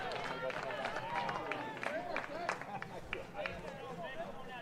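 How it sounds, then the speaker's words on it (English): Crowd at a high school baseball game between Chesterton and Lake Central, a steady murmur of voices and grumbling with scattered shouts and a few claps, heard faintly at a distance under a nearby voice. "You can hear the crowd noise."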